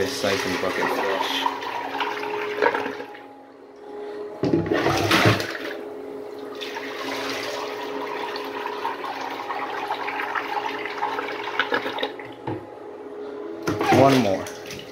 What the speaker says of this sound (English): So I siphon bucket flush.